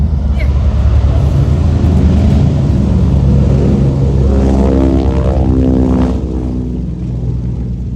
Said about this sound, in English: So these aircraft were flown in the golden age of piston air transport.